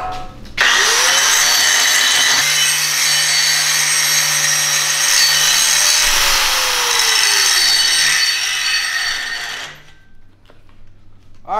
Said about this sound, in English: we're gonna start grinding our hot pass down